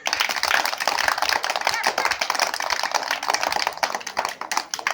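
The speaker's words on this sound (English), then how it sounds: "Clap, children." A group of children clap their hands together, a dense, continuous patter of many overlapping claps lasting several seconds, fairly loud and close.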